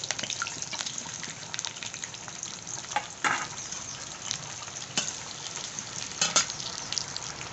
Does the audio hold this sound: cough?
no